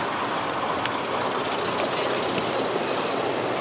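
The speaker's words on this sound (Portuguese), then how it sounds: "E aqui é a locomotiva." A FEPASA-liveried locomotive of series 5B moves along the rails at Lapa, giving a steady, continuous rumble of rolling wheels with faint metallic squeals and clanks, close and unbroken throughout.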